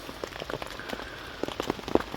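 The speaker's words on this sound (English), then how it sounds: "the rain has picked up somewhat" Rain patters close by on an ash shelter while camping in Scotland, with quiet irregular drips and a few sharper taps over a soft steady hiss.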